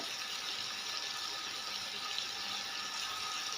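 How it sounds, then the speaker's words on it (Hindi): Water pours steadily into a pot of Punjabi-style chicken pulao with biryani masala, a soft continuous splashing rush with no break. "थोड़ा जा पानी इस्तेमाल करूँगी"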